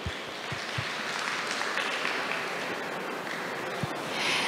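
An audience at a conference main session claps in sustained applause for the panelists, a steady wash of clapping with a few low thumps near the start.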